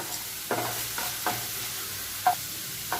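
Onions sautéing in a pan with asafoetida, with a few soft spoon stirs scraping at intervals over a low, steady frying hiss.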